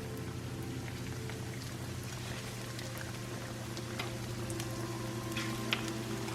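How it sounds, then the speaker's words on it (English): Chicken pieces hit hot oil and sizzle, giving a steady, close crackling hiss with scattered pops that continues evenly throughout with no talking. "We do want to hear a nice sizzle when we put it down."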